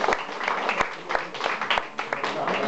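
Audience applause for a young volunteer named Francesca during a card magic show, a brief burst of clapping with a few sharp individual claps standing out, fairly close and lively.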